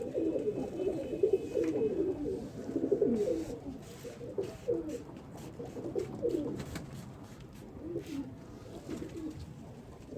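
Racing pigeons coo in steady low, throaty rolls from an old flying bird and its flockmates, several overlapping calls repeating throughout at moderate loudness with no talk.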